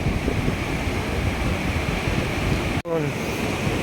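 Steady roar of surf and crashing waves, loud and continuous, with a brief sharp dropout near the end.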